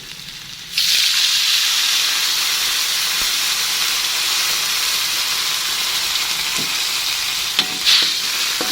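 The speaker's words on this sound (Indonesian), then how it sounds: "Aduk-aduk." Spices frying in a pan with added water for stir-fried water spinach, a steady loud sizzle and hiss under occasional stirring scrapes, close and continuous with no talking.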